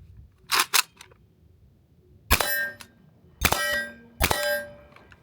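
Suppressor being fitted onto the crank-style muzzle brake of a Palmetto State Armory AK-P SBR, a few close, sharp metallic clicks and clanks with ringing tails, separated by quiet pauses.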